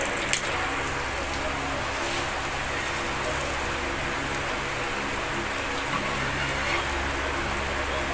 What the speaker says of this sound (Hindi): हमारी टिक्की फ्राई होगी